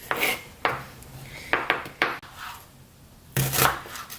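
Kitchen chopper cutting food while making Trinidadian pastelles: about half a dozen sharp, separate chops with short pauses between them, close and fairly quiet, no voice.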